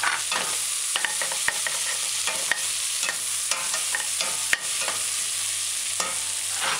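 Bone-in chicken pieces sizzling loudly in a pan as a sprig of thyme is stirred in, steady crackling frying with repeated spoon scrapes and taps, close and continuous, no voices.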